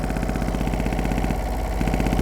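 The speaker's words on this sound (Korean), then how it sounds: "엔진 소리는 괜찮습니다" A 2011 Yanmar SV08 mini excavator idles up close, its small diesel engine making a loud, steady, fast rhythmic chugging with an added rattle from a loose air cleaner cover.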